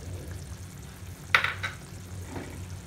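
Fish or prawn curry with garam masala and chopped coriander is stirred in a pan, giving a soft sizzle with one brief spoon scrape and clatter in the middle, close and without talk.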